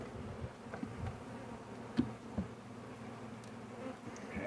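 Agitated honey bees from a swarm buzzing inside a hive after being installed, a faint, continuous low drone with a few brief louder buzzes as individual bees pass close.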